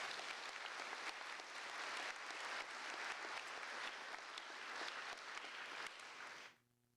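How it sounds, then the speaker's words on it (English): A large audience gives the staff a sustained round of applause at a high school graduation recognition ceremony, with even, steady clapping for about six seconds before it cuts off abruptly. "let's give them a round of applause"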